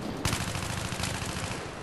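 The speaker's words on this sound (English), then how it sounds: "I'm getting shot from behind." Rapid automatic gunfire in Battlefield 3 during a squad deathmatch on Davamand Peak, a dense continuous rattle of shots that starts abruptly and keeps up without pause.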